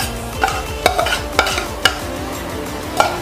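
Coarsely ground dry fruits are mixed into panjiri flour in a wide tray, producing rhythmic scraping and shuffling strokes with soft periodic knocks at a steady pace.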